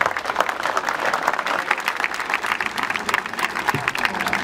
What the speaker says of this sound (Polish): Wielkie brawa dla pana Gerarda.